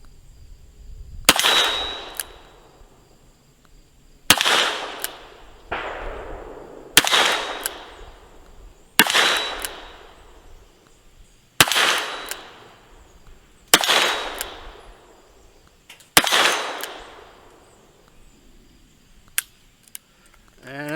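A Ruger GP100 .357 Magnum revolver fires .38 Special cowboy loads with 125-grain lead bullets over a light powder charge, seven loud, sharp shots spaced a couple of seconds apart, each trailing off in a short echo.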